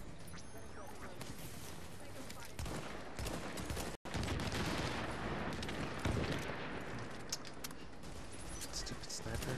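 Dense, continuous gunfire from The Division during a firefight at the Queens Tunnel Camp, loud rapid bursts of shots almost throughout with only a brief gap, no clear talk over it.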